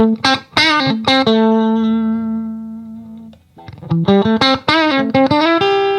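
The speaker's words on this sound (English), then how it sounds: "Reverb is wonderful." Guitar chords through a 1976 Fender Princeton Reverb amp with its spring reverb, a few bright strums ringing out into a long decaying reverb tail, then another run of loud rhythmic chords.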